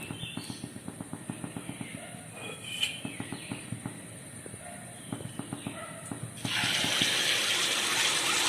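Liquid poured into a pan while making Thalassery muttasurkka, a steady rush of pouring that swells up near the end after a run of light rhythmic taps and clicks, with no voices.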